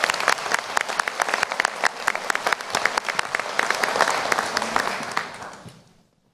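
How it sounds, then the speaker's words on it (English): Dense, steady applause fills a university graduate commencement hall for an award winner, loud and continuous before fading out near the end. "So let's give Cameron a round of applause"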